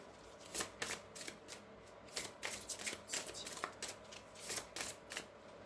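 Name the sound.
shuffling a deck of oracle cards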